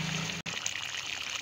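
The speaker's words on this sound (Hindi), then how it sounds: "इसको भूनने के बाद हम लोग थोड़ा सा उसके अंदर पानी डालना है" Water poured into a pan of frying aloo keema (potato and minced meat) makes a steady close hiss and trickle that cuts out for a split second, then continues.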